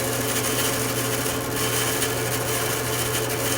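A band saw slices relief cuts into a CO2 dragster wood block with a steady, loud, continuous whine and broadband rasp, running alone without voices for the whole stretch.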